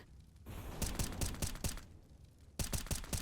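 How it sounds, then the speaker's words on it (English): Gunfire and a grenade in a CS:GO match, with bursts of sharp shots that stop and then return at the end, loud and close. "Combo gunshot plus grenade."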